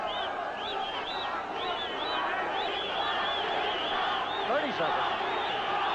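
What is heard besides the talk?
boxing crowd cheering for Chacon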